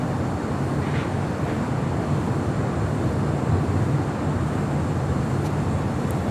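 An Emirates Airbus A380 takes off at LAX with a continuous loud, broadband jet roar that holds steady over several seconds, heard from a distance without any voices.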